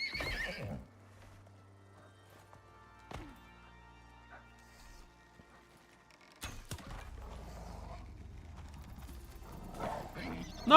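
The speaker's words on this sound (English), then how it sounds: "There's Horsey! Horsey's fine" A horse in the video game Icarus neighs with a short whinny at the start, then goes quiet apart from a few faint in-game clicks and thuds, with more activity toward the end.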